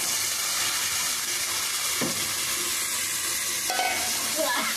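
Boiled chickpeas and potatoes frying with spices in a pan for a Bengali chickpea curry, a steady soft sizzle and hiss throughout with occasional stirring scrapes, close and moderately loud.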